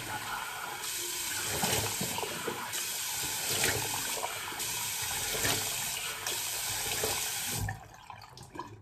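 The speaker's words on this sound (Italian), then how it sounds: "Acqua fredda." Cold water runs from a bathroom tap into a sink during a wet shave, a steady close splashing stream lasting several seconds before shutting off abruptly.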